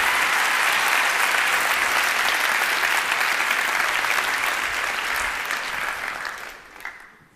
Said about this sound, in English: a big round of applause from all your friends